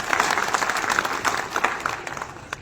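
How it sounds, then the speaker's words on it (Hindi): Applause from a crowd welcoming a district president and MLA at a village felicitation ceremony: steady dense clapping throughout, fairly close and full, with a faint voice or two mixed in. "एक बार जोरदार तालियों से स्वागत हो जाए।"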